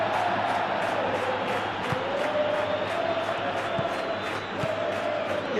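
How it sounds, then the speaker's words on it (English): A stadium crowd in the Football Life 26 football video game roars with steady cheering and chanting throughout, a dense, continuous wash of voices with faint rhythmic claps, alone and without clear commentary. "the crowd have tried to spark some excitement, but to no avail"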